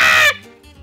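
In the video game Misbits, a chicken lets out one short, loud, bright squawk that cuts off quickly into a faint tail.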